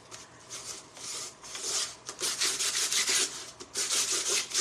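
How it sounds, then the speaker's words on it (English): Sandpaper roughing up a stained wooden sheet of cookie cutter shapes comes through as repeated close, soft scratchy rubbing strokes in uneven bursts, with no voices. "I'm gonna take a little sandpaper"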